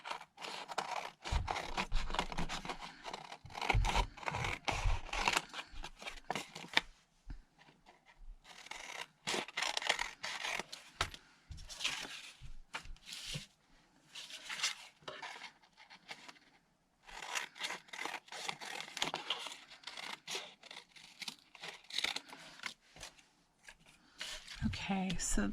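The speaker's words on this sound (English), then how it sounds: "first I'll trim this down into a tag." Scissors snip and scrape through a glued zipper tag for a craft project, in bursts of close, crisp cuts and rustling paper with short pauses between them.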